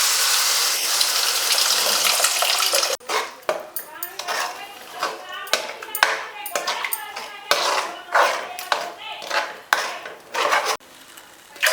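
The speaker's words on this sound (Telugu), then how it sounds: "మనం కలిపెట్టుకున్న చింతపండు జ్యూస్ తీసుకొని దీంట్లో యాడ్ చేసుకుందాం" Tamarind juice poured into a pan of bommidayalu fish curry, first a steady gushing splash, then clanking of a metal pan and utensils with quick scraping stirs, close up and loud.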